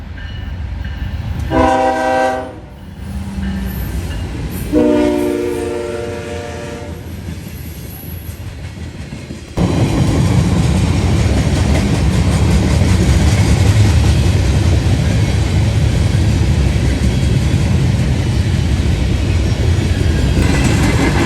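Freight train 170 rolls through London, its horn sounding in two long blasts before the locomotive arrives, then a loud steady roar of wheels and cars passing close for the rest of the clip.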